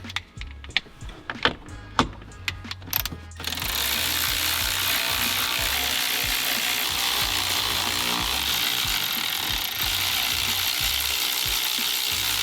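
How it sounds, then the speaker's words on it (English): A ratchet clicks in short bursts while undoing nuts on the shifter plate of an Audi B8, then a steady loud mechanical whir takes over and runs to the end. "And we're going to undo the 4 nuts that hold the plate up through the body."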